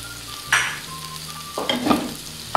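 Kashmiri chili powder and turmeric frying in oil in a pan, a soft, low sizzle with two brief scraping stirs of the spoon, close by and fairly quiet.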